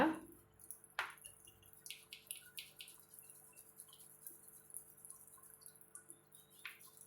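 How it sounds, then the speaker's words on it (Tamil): Ivy gourd is rinsed in a bowl of water, giving soft close splashes and drips with a few sharper knocks, sporadic and fairly quiet. "திருப்பி இன்னொரு டைம் தண்ணி ஊற்றி இது போல் நம்ம அலசி எடுத்துக்கலாங்க"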